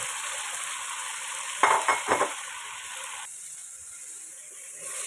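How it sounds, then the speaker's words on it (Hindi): White chickpeas being stirred and fried in masala in a pan: a soft continuous sizzle with a few scraping stirs of a spoon midway, close up and without talk. "ये चनों को अच्छी तरह इसमें मिक्स करके 1 से 2 मिनट के लिए भून लेते हैं"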